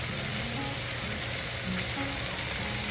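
Garlic sizzles and fries steadily in a hot pan while curry chicken cooks, a dense, continuous crackle close up with faint stirring and no voices.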